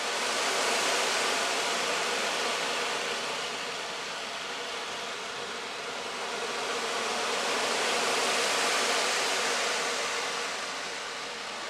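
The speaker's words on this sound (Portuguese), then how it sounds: "O tambor oceânico, ele trabalha o ruído branco, que é o barulho que faz dentro da barriga da nossa mãe." An ocean drum rolls its beads in a steady, hissing wash of water-like white noise that swells and ebbs slowly, loud and close with no voices.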